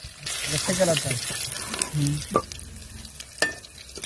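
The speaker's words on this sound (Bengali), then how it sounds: "মাসুম ভাজছে মাছ" Fish frying in oil outdoors in an open field sizzles loudly with stirring and scraping, punctuated by sharp clinks and splashes, while voices murmur faintly in the background.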